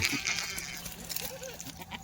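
Kathiawari goats bleating on a farm, with a few short wavering calls rising over a steady background murmur at moderate distance.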